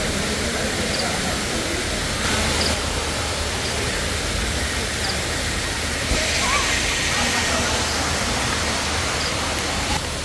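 A waterfall at Wadi Hanna near Salalah, Oman during the khareef season, a loud steady broadband rush of falling water that stays constant throughout, heard close with no clear talk.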